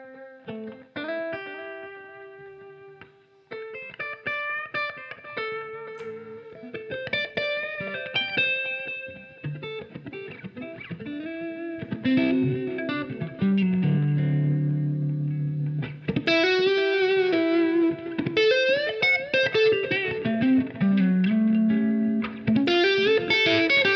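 An electric guitar with a gritty, distorted tone plays picked notes and chords, starting soft and sparse and then swelling into louder sustained chords, with no voices.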